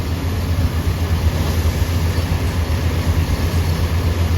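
Large combine harvester cutting wheat in a farm field, a loud, constant low engine drone with a steady mechanical rumble and no talking.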